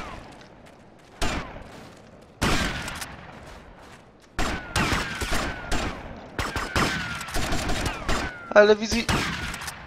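Bursts of automatic gunfire in Grand Theft Auto: Vice City, rapid volleys arriving in clusters between short quiet gaps and growing denser toward the end, with a voice speaking briefly.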